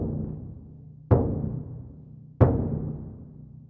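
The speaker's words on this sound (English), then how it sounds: "This instrument is called the bass drum" Orchestral bass drum with a wooden shell and skin or plastic head, struck twice about a second apart; each deep, booming hit blooms and decays slowly, ringing low and full with no talking.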